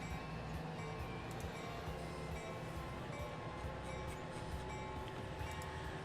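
Diesel trains run in the Transport Fever video game, producing a steady, dense rumble of engines and rolling wagons with a faint, even clatter, far off and continuous.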